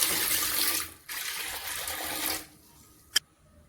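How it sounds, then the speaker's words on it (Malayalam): Water poured into a pressure cooker holding washed moong dal, a close rushing gush that pauses briefly, resumes, then stops, followed by a single sharp clink near the end. "രണ്ട് കപ്പ് വെള്ളം ഒഴിക്കാം."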